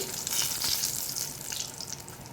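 Two red chilies crackle in hot oil with cumin seeds while being stirred, a steady close sizzle with faint scraping throughout, no voices.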